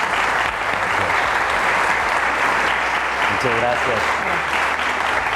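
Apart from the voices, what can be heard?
audience applause welcoming guests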